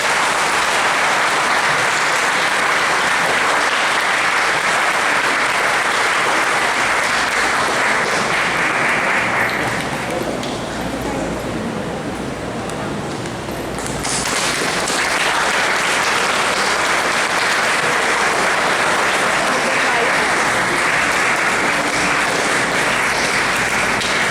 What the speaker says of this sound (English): Let's give Father Albert Dixon a well-deserved round of applause.